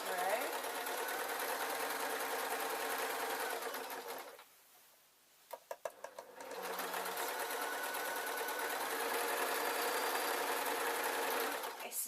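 A sewing machine runs steadily while stitching around a skirt's waistband, a loud continuous mechanical whir that stops for about two seconds with a few clicks and light handling sounds, then resumes and keeps running evenly.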